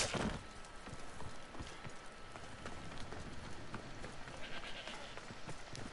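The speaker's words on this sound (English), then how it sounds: "Fuck off, goat." A goat bleats in the video game Bayford, heard over a constant rain-like hiss with short scuffling bursts.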